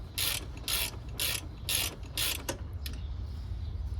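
A ratchet snugs bolts on the rear wheel of a Honda GL1500 Goldwing motorcycle during installation. Five or six quick, loud bursts of clicking come in a regular rhythm, then trail off into quiet shop ambience.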